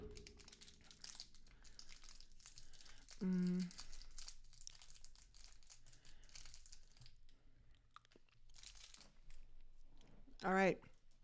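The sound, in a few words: unwrapping a throat lozenge wrapper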